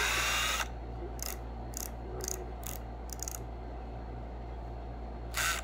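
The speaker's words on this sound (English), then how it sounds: "So just to get started, I'm using the screwdriver." A manual screwdriver ratchets in short bursts of clicks while driving screws into a cedar wood octagon sandbox, several quick turns with pauses between them, close up against a steady low hum.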